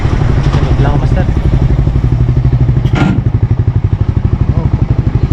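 A motorcycle engine putters steadily beneath a passenger riding pillion, with rhythmic thumping and clatter from the ride, close and loud throughout.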